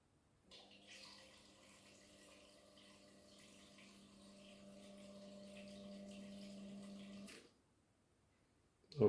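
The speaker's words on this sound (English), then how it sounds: "Whatever noise you're hearing now when I'm silent is actually my air-to-air heater pump in the house" An air-to-air heat pump running inside a house gives a low, steady hum with a tonal drone that grows slightly louder over several seconds, then stops abruptly, leaving near silence.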